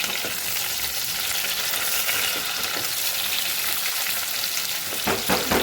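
Masala spices fry in a pan before chicken goes in, a dense, steady sizzle throughout, with stirring scrapes growing more noticeable toward the end.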